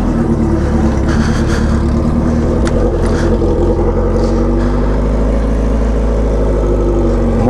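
A Suzuki B-King motorcycle engine running in a test, a loud, steady mid-pitched drone with a few brief revving swells, close and continuous throughout.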